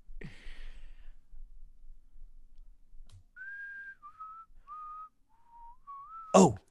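Whistled tune from a character in the video game Deadly Premonition 2: a short run of clear, steady pitched notes, near and alone, framed by a breathy sigh at the start and a sharp burst at the end.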